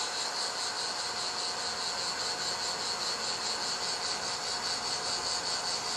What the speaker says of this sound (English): you can hear the rotation speed increase